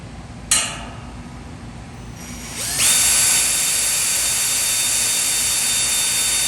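Power drill boring into an aircraft fuselage part: a sharp click, then the motor spins up to a loud, steady high whine that holds to the end, close by.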